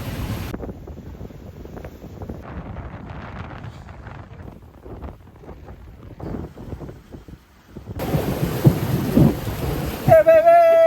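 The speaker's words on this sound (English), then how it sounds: "Having some unforeseen 30-knot gusts." Strong 30-knot wind gusts on a 44ft sailboat at sea off Baja, heard as heavy roaring buffeting against the microphone, swelling louder near the end, along with some brief tonal beeps.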